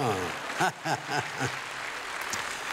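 An audience claps at a church-hosted humanities lecture, a broad wash of applause running under the elderly lecturer's voice as he keeps talking.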